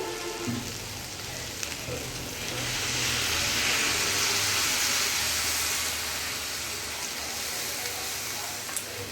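Water poured into a hot pan of elephant foot yam on a gas flame sets off a strong, rushing hiss of steam that swells loudly for a few seconds, then settles into a softer, steady sizzle.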